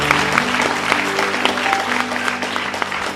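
An audience at a Hindi prayer and healing gathering claps together, a dense steady round of applause that holds at the same level throughout, with some voices mixed in under it.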